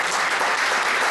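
A studio audience applauds steadily to welcome guests onto a Spanish-language show, a dense continuous wash of clapping with no voices on top.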